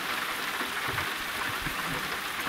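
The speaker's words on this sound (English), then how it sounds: "and it's raining." Rain pouring steadily in American Truck Simulator on a Montana run, a dense, even hiss of drops hitting surfaces, constant and close with no talking.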